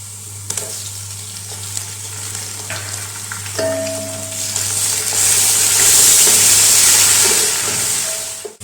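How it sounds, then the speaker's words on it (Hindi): Ginger garlic paste fries in hot oil with a continuous close sizzle and hiss, growing louder and steamier midway, with occasional light stirring clinks. "अदरक और लहसुन का पेस्ट हमारा अच्छी तरह फ्राई हो गया"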